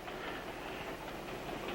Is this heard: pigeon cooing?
no